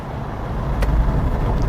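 A 2004 Land Rover Freelander with a K-series engine pulls away under light throttle, heard from inside as a steady low engine rumble that swells slightly, with no speech.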